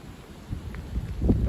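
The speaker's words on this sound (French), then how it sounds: "un bon vent de nord-ouest" Gusty northwest wind rushes past the microphone during an evening cold front, a low rumbling buffet that swells and builds toward the end, with no voices.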